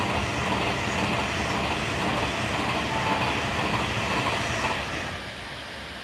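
A Pendolino passenger train rushes past outdoors with a loud, steady roar and rumble of rolling wheels that eases off slightly as it moves away.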